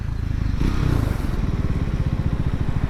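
Triumph Scrambler 400 X motorcycle engine running while ridden, a loud, close, steady pulsing thrum with a brief swell of revs near the start.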